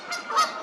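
A couple of short, nasal goose honks sound in quick succession, fairly close and clear.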